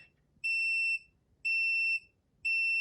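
A heat press timer goes off on a finished cycle, sounding three evenly spaced, loud electronic beeps, each about half a second long, with quiet pauses between them.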